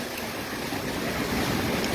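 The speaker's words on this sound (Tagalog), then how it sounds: "Pero sa mga oras po na ito, muling bumalik yung uh, lakas ng hangin" Strong typhoon wind in the Philippines roars continuously in a broad, rushing wash of noise, buffeting steadily without pause.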